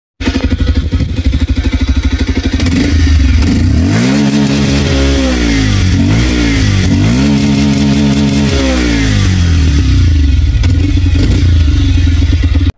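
Bajaj Pulsar 125 Carbon Edition with a single long matte exhaust, revved repeatedly at close range: loud throttle blips rise and fall in pitch against a steady idle, several rapid revs in a row.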